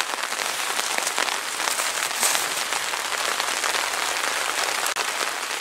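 Heavy rain pours down at a country dacha garden, a dense, steady hiss of drops drumming on surfaces that holds evenly throughout.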